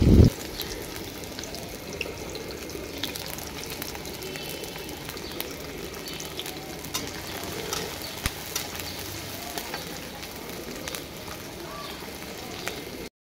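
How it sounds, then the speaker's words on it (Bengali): Chopped onion and green chillies fry in hot oil in a kadai, giving a steady, even sizzle that holds evenly throughout, starting with a brief clatter. "কড়াইয়ের ভিতরে তেল গরম হয়ে গেছে, পেঁয়াজ দিয়ে দিলাম। এখন এই পেঁয়াজটা ভাজা করব, আর কাঁচামরিচও দিয়ে দিলাম।"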